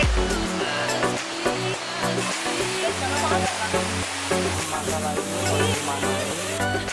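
A waterfall about 40 meters high with clear water in the forest of Air Sungai, Lampung, roars as a steady broadband rush that is mixed under music with sustained tones throughout.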